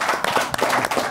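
A short burst of clapping at a kickboxing club event, several sharp claps in quick succession close by, with no talk over it.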